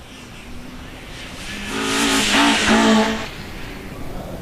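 A rally car on a gravel stage of the Chepstow Rally Festival sweeps past in the dust, its engine note rising to a loud peak mid-way then fading, with a rough broadband hiss of gravel and air around it.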